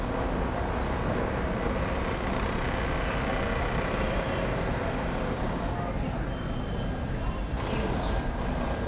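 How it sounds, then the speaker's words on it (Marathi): Platform ambience at Vadodara railway station: a steady, loud wash of rumbling noise runs throughout, with a few brief high squeaks or clinks near the end. "इकडे बघू शकता वडोदरा स्टेशन"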